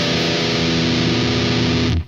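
A heavily distorted electric guitar rings out a dissonant power chord with a hammer-on, a loud sustained buzzing crunch that holds steady for about two seconds before being cut off abruptly.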